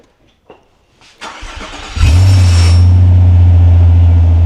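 Shmee150's car fires up: a few faint clicks and a rising starter whir, then the engine catches with a loud bark and settles into a deep, steady, meaty idle close by.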